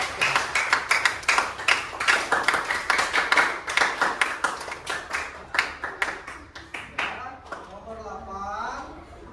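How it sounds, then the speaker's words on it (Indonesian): Classroom applause for a student's correct answer in a computational thinking lesson, a quick burst of many hands clapping in rapid rhythm that thins out, followed by a voice at the end. "Tepuk tangan untuk nomor 1."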